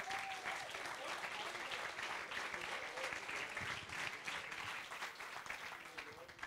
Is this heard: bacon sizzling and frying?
no